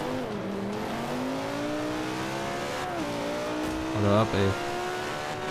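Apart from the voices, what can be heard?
race car drifting in video game Forza Motorsport 5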